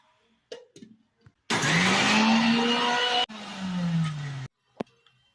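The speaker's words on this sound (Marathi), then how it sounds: "आता आपण ही चटणी वाटून घेऊ" A mixer grinder grinds chutney in two loud whirring bursts, about two seconds and then one second long, with a motor whine that drops in pitch, framed by soft clicks and knocks before and after.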